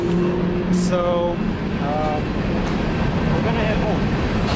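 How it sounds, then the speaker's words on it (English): A loud Toyota AE86 GTS coupe with pop-up headlights drives along, its engine a steady low drone heard up close with people talking over it. "this car is loud"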